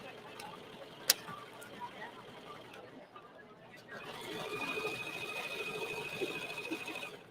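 A sewing machine stitching a rolled hem on trimmed fabric at a quilt festival, running as a faint, steady whir that grows busier after a pause, with a sharp click early on and voices in the background.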